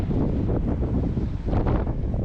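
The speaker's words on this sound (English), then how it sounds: "it's super windy at this point" Strong wind buffets the microphone at St Cyrus Beach, a steady loud roar with gusting swells and no voices.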